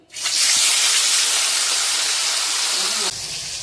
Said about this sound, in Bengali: মাছগুলো দিয়ে দিই, তেলটা গরম হয়ে গেছে।